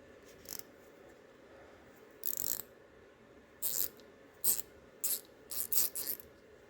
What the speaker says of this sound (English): Now we'll go ahead and we'll pop this head apart.